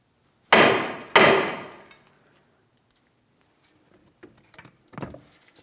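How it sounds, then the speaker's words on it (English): Hammer striking a Ford Edge front control arm: two loud, sharp metallic blows about half a second apart, ringing briefly, followed by a few faint taps and clinks nearby. "I'm going to start tapping on my control arm"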